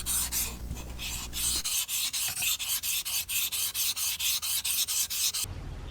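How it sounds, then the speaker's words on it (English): Steel chisel bottom rubbed back and forth on a whetstone to flatten it, a steady rhythmic rasping of about fifteen even strokes, close and clear with no voices. "I'm going to flatten it, make this bottom of this chisel nice and flat."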